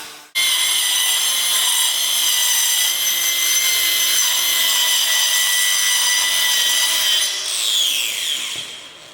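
Aluminium pieces being cut for a hand-built boat, a loud continuous high-pitched whine and rasp of a power cutting tool. It runs steadily for several seconds and then drops off toward the end.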